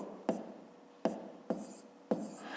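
Pen or chalk strokes during a fifth-grade maths lesson, four short scratchy bursts in an uneven rhythm, each starting sharply and trailing off, close and fairly quiet with no talk.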